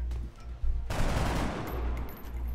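A single loud gunshot fired in the X-COM Enemy Within video game, a sharp burst that trails into a long noisy decay with no talk over it.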